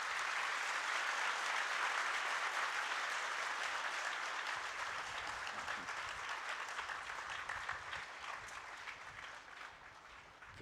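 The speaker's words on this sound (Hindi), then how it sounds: "जोर से तालियां बजाओ इनके लिए" A large gathering applauds Kailash Manav Ji Maharaj with sustained, even clapping that rolls on for about ten seconds and slowly thins toward the end, heard from some distance.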